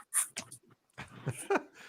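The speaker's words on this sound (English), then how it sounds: "Well, it looks like a nice dog." A 13-week-old puppy whimpering and breathing in short, faint bursts, soft whines and huffs close by with brief gaps between them.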